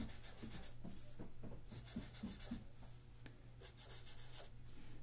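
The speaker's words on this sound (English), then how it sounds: "I'm just drawing an oval and coloring it in" A pen scratches on paper as it draws an oval and colors it in for a cartoon millipede's foot. Rapid back-and-forth strokes repeat close up with brief pauses and no talking.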